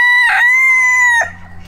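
A red Italian bantam rooster crows once, close and loud, a single sustained tonal call that cuts off sharply, leaving faint background behind.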